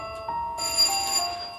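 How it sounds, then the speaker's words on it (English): An elevator alarm bell rings in a bright, sustained electric tone, loud and close, steady for about a second without talk. "here's the bell again"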